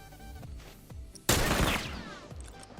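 Gunfire in a 1v1 tournament match of a video game shooter, with a revolver in play: a few sharp single shots, then one loud blast with a long ringing decay, followed by further quieter shots.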